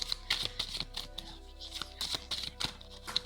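Tarot cards are shuffled in quick bursts, a series of crisp riffling flutters and taps close by with short pauses between them, with no talking.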